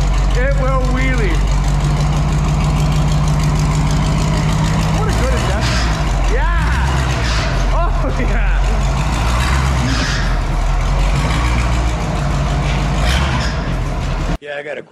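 A street sweeper truck idles nearby with a loud, continuous low rumble that lasts the whole stretch, while people talk over it.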